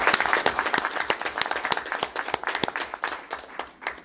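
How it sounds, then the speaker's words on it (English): Brief applause at a state contractors board committee meeting, a small group clapping steadily in a room, moderately loud and fading toward the end. "Give them a round of applause, please."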